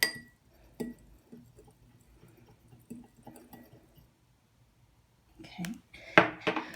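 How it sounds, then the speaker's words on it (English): A fork gently stirs food coloring in a glass jar, making scattered light clinks and taps against the glass that grow louder and busier toward the end. "I'm going to take my fork and I'm going to gently mix it."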